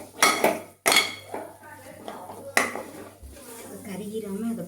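A metal spoon clanks and scrapes against a cooking pot while chilli powder is stirred in, with several sharp knocks followed by softer scraping.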